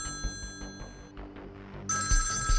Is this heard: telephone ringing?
yes